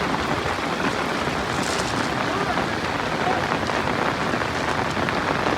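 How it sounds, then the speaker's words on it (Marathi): Heavy monsoon rain pours down on a riverbank during the first rains of the season, a loud unbroken roar of drops hitting the surface up close, filling the whole scene. "खूप जोरदार पाऊस चालू आहे खूप"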